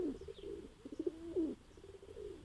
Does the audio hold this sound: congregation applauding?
no